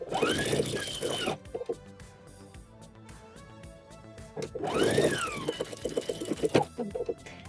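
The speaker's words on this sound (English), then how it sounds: "now I'm going to add a row of basting about 1/4 of an inch away from the bottom" A sewing machine runs basting stitches along a bathing suit hem in two separate bursts, each a rapid, close mechanical chatter with a rising and falling motor whine, and a quieter pause between them.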